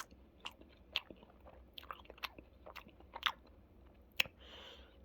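Someone close by chews and eats milk-flavoured ice cream, with soft wet bites and scattered crunchy clicks spread over a few seconds in a quiet room.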